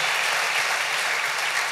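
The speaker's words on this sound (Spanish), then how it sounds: "Denle ese aplauso al Rey bendito." Church congregation applauding together, a brief, steady wash of many hands clapping at close range without voices.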